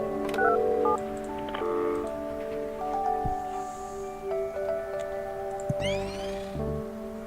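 Phone line utility sound from the building sim game Project Highrise: a run of electronic dial-tone-style beeps and sustained tones layered over a steady synthetic backdrop, with a brighter chirping sweep near the end.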